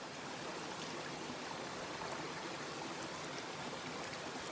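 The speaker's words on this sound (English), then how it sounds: "I'm in the middle of Panther Brook." Panther Brook in the Adirondack High Peaks flows in a steady, dense wash of rushing water, heard close and continuous with no voices.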